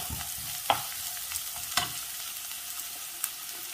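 Onions sauté in a pan for a drumstick and egg thoran, a steady close hiss of frying broken by a few sharp scrapes of a spoon stirring, with no talking.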